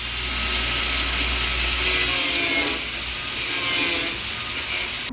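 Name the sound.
angle grinder cutting off old stuck bolts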